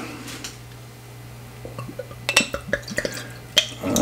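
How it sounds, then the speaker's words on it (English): Butterscotch root beer soda is poured into a glass, giving faint liquid trickles and small fizzy splashes over a low steady hum, with a few clinks toward the end. "Let's give it a pour and see what we got."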